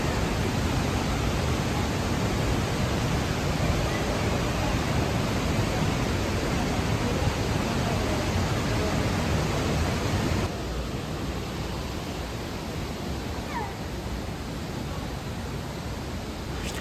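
Trümmelbach Falls near Lauterbrunnen, Switzerland, a 140-metre glacier-meltwater cascade, roars in a loud, unbroken wash of rushing water heard from the top, dipping slightly in level partway through.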